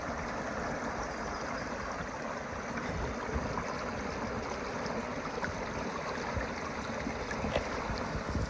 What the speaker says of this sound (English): across a big beaver dam here on the High Falls Loop Trail with water running out of the pond